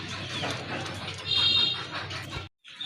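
Native deshi pigeons cooing at a pigeon seller's place, soft low coos mixed into a busy background murmur, with a brief louder swell midway and a short gap of near silence near the end.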